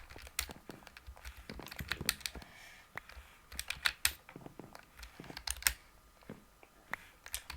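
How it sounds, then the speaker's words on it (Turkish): Rapid clacking of a mechanical keyboard during a gaming session, with irregular bursts of crisp key presses and occasional heavier thocks, close and fairly quiet, and no one talking. "Master klavye sesleri zaten biliyorsunuz."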